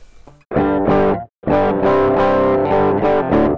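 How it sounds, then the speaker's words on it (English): An electric guitar's clean DI signal played through Amplitube 4, with a short plucked note followed by ringing strummed chords that sustain, loud and close with no talking. "so you can now hear the DI signal coming through"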